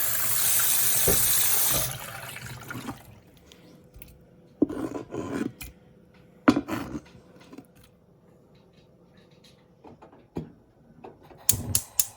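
Tomatoes being washed for home preserving, with a steady rush of running tap water for about two seconds, followed by scattered knocks, clatters and splashes at a sink.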